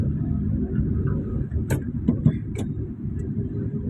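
A car driven during a driving lesson, a steady low engine rumble with road noise throughout and a few faint clicks near the middle, no talk.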